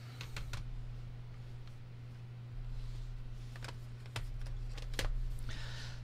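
Fingers typing on a folding Bluetooth keyboard produce sparse, sharp plastic clicks in small bursts over a quiet background hum, close up, with no talking.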